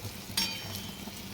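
Flour roasting in oil for a banana curry gives a soft, steady sizzle with a faint stir and clink of a utensil, close and quiet with no talking.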